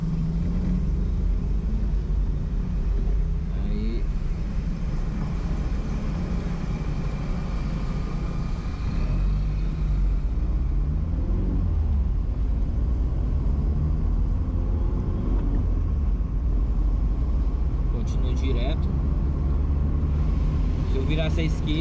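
Busy evening road traffic on an avenue in Porto Velho heard from a moving vehicle, a constant loud low rumble of engines and road noise with someone talking over it throughout.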